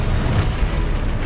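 Confringo spell explosion in Hogwarts Legacy, a dense, continuous booming rumble that stays loud and heavy through the whole short clip, with no clear gaps between blasts.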